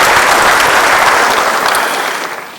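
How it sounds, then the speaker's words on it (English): Loud, dense round of applause from a ceremony audience honoring a speaker at a university event, close and continuous before tapering off at the end. "Shall we appreciate him with another round of applause?"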